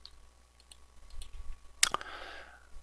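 A single mouse click on the run-as-administrator option for Command Prompt on a Windows PC, a sharp short tap standing alone in a quiet room.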